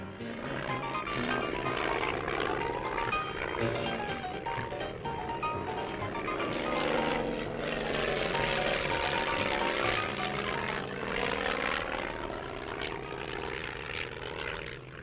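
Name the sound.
propeller airplane flying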